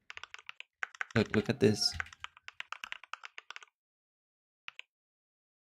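Rapid keystrokes on a computer keyboard come close and clear, bursting into a dense flurry under a brief spoken phrase, then thinning to scattered taps, a pause and two final clicks.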